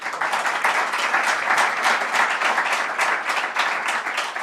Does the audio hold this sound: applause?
yes